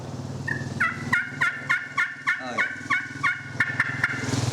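A vintage hand-operated turkey call imitates a turkey with a run of about a dozen sharp, evenly spaced yelps, close and clear, with no talking.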